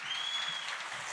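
An audience at Conway Hall applauds for Helen Arney, a continuous hiss of many hands clapping, even and moderately loud, with no speech over it.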